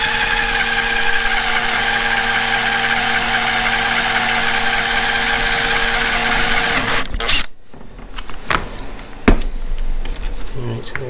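A power drill bores a hole through a rubber roof rack seal on a 3rd gen Tacoma, a steady close whine for about seven seconds that stops abruptly, followed by light handling clatter.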